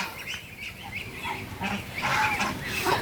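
Chinese geese on a poultry farm give repeated nasal honks that grow louder and denser toward the end, over a steady farmyard background.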